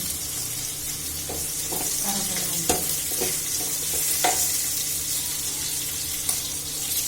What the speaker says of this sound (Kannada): ಒಗ್ಗರಣೆ ಹಾಕ್ತೀನಿ, ಸಾಸಿವೆ ಹಾಕ್ತೀನಿ